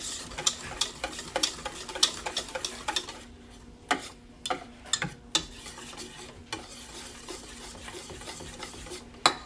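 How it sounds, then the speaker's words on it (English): Whisk tapping and clicking against a bowl while onion ring batter is beaten creamy, a quick irregular rhythm of close, light ticks with no talking. "whisk this together, nice and creamy"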